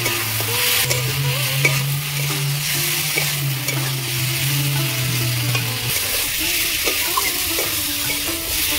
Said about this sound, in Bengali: আলু ফুলকপি দিয়ে দিয়েছি, এবার ভালো করে কষিয়ে নেব।